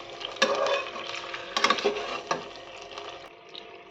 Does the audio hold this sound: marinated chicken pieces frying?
yes